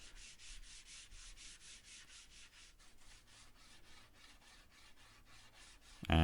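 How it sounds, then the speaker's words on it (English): Steady rhythmic scraping of sandpaper rubbed back and forth by hand over a wooden dining chair, close and continuous, with a brief louder knock at the end. "I could then give it all a hand sanding when the filler was dry."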